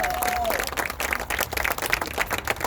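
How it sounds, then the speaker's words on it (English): A crowd at an outdoor peace ride gathering claps and applauds for the Houston Desperado motorcycle crew, steady scattered clapping with a faint whistle at the start and crowd noise throughout. "Clap it up for them."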